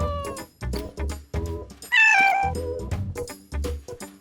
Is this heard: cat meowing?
yes